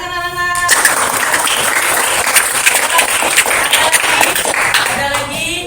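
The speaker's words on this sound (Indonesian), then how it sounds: "Bagus, tepuk tangan anak-anak." A classroom of children claps together in a loud, dense burst that lasts several seconds and then trails off, with voices mixed in near the end.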